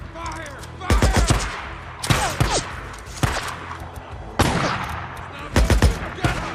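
Bursts of rapid gunfire crack and rattle in the video game Days Gone, several loud volleys of automatic shots separated by short pauses, with shouted voices mixed in.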